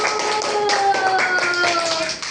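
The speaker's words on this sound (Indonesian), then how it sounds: "Kasih tepuk tangan buat Alisa" Children in a classroom clap for a classmate after a storytelling session, a quick, even run of sharp claps mixed with children's voices.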